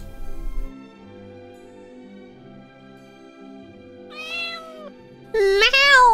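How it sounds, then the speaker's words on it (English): Cat meowing in a Christmas sound-guessing game: two clear meows, the first a mid-length call and the second louder and more drawn out, over a quiet tonal game background. "Meow is a little kitty cat."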